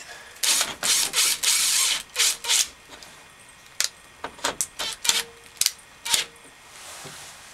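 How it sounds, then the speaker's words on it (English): Power screwdriver driving screws into the housing of a ceiling vent fan during installation, heard as a series of short, close, sharp whirring and ratcheting bursts separated by brief pauses. "Could do this with just a regular screwdriver, but we're using the power."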